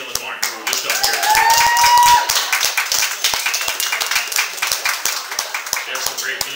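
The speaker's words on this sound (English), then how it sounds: "let's give a round of applause" A small group at a live music show claps by hand, brisk and uneven, with a voice talking over the clapping.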